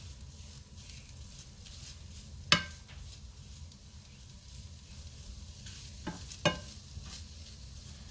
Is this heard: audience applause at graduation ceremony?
no